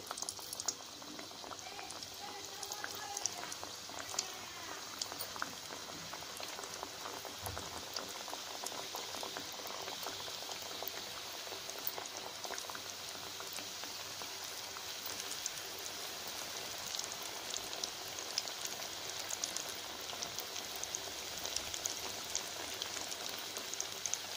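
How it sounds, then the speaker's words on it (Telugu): Madatha kaja sweets deep frying in hot oil over a low flame, a steady, continuous bubbling hiss with fine crackles that runs unbroken throughout, with no talking. "ఇప్పుడు మనం కాజాలు వేసుకుని లో ఫ్లేమ్ మీద ఉంచి వీటిని డీప్ ఫ్రై చేసుకోవాలి"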